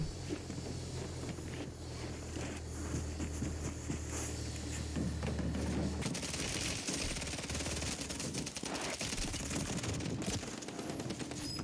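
Rapid bursts of automatic gunfire from two shooters at once in the video game Warzone, loud and dense, with wind noise beneath; the firing grows harsher and more continuous in the second half.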